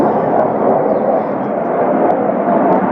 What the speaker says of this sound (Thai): ทำไมเสียงเครื่องบินตกจัง เหมือนเราอยู่ใกล้สนามบินสุวรรณภูมิยังไงไม่รู้อะ